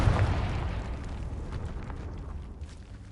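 A Confringo fire spell exploding in Hogwarts Legacy, a loud, rumbling blast that hits at once and then fades into a crackling, decaying roar.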